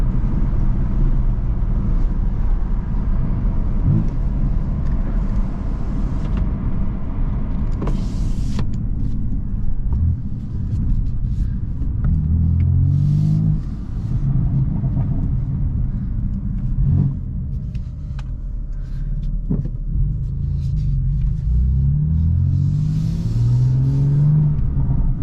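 A car engine idles and revs with a deep, continuous rumble while warming up, heard up close with some faint rattles and no speech.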